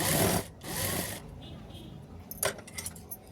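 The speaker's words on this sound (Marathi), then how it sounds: "व्यवस्थित एकसारखे शिलाई मारत आणायच्या." A sewing machine stitches fabric cut from a bedsheet in two short loud mechanical bursts at close range, followed by quieter handling clicks and a metallic jingle.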